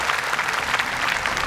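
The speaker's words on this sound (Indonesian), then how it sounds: "Boleh tepuk tangan untuk Ica, peserta pertama kita." A studio audience at the Hafiz Indonesia 2020 Quran recital contest claps steadily and densely for a contestant, close and fairly loud throughout.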